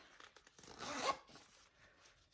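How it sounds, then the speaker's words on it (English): A bag zipper is pulled closed in one quick, raspy zip lasting about half a second, with faint handling rustles before and after. "I'm gonna zip this up real quick."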